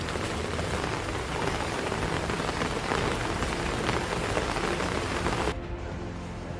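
Heavy monsoon rain pours down hard and steady, a dense loud hiss of drops hitting surfaces that continues unbroken before dropping suddenly to a quieter wash near the end.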